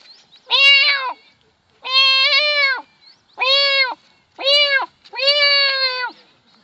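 A voice imitating a cat, five drawn-out meow-like cries with pauses between them, loud and close, with a bleating, goat-like tone and no other sounds.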